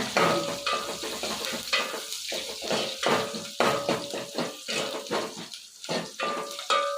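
Steady sizzle of onions frying golden in a pan with curry leaves, with repeated stirring scrapes and clinks of a utensil against the pan, close and fairly loud.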